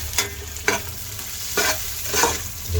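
Garlic frying in a pan alongside ginger for a Filipino balbacoa, a close steady sizzle with several short scraping strokes of a spatula, no voices.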